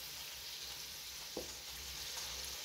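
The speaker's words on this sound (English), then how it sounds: "Now we're gonna slide in our shrimp." Shrimp for shrimp scampi pasta hitting a hot pan, a steady broad sizzle throughout with a brief soft clink near the middle, no talking.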